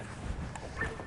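Farm dog making soft whimpering and yipping sounds at close range, faint and brief against steady outdoor background noise, with no talking.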